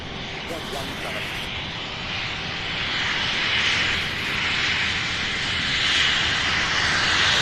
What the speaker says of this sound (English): Definitely a private jet here.